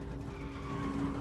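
An American Airlines airliner skidding down the runway after landing, a continuous droning tyre screech with a steady tone that stays level throughout, with no speech.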